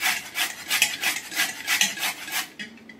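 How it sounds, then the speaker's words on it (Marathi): Elephant foot yam (suran) is grated by hand in a kitchen, giving close, rhythmic rasping strokes in an even back-and-forth pattern that stops near the end. "मी हा पूर्ण सुरण असा किसून घेते"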